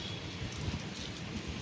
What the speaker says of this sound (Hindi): तो देखिए कितनी बारिश हो रही है और अभी तो और आएगी।